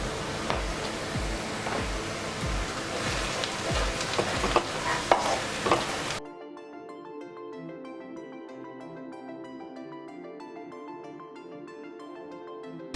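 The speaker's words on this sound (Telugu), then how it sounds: "ఉల్లిపాయలు మనం పచ్చివాసన పోయే వరకు, గోల్డెన్ బ్రౌన్ కలర్ వచ్చే వరకు మనం ఫ్రై చేసుకుందాం." Onions fry in a pan for a Godavari garlic fish curry, with sizzling and stirring scrapes for about six seconds before the sound gives way to a quieter, softer stretch.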